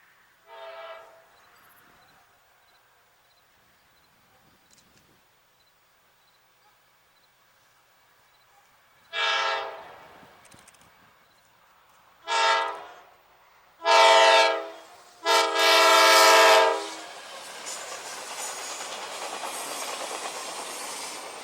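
CSX grain freight train R129 rounding the curve at the north end of Kelly Siding on the Henderson Sub, sounding several loud horn blasts of growing length after a quiet lead-in, with the rumble of the train continuing beneath.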